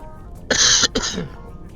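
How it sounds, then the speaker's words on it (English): A single harsh cough in two quick bursts, close and fairly loud, with quiet background before and after. "I've still got this stupid bloody cough"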